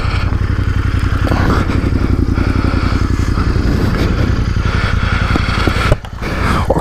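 A Royal Enfield motorcycle engine idles in neutral close by, a steady throbbing thump with fast regular pulses running throughout, briefly dipping near the end before picking back up.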